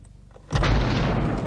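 A sudden loud explosion from a car bursts in after quiet, then a sustained roaring rumble that fills the rest of the moment without fading.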